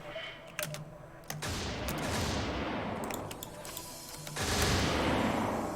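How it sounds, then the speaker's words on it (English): Gauss cannon fire in Xenonauts X-Division: sharp blasts followed by long, roaring waves of noise, loud and continuous, with no voices. "Gauss cannons doing their job."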